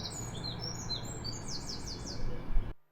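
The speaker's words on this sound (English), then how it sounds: "Here are some birds." Several birds chirp and tweet in quick high repeated calls over a soft steady background hum, ending abruptly in silence.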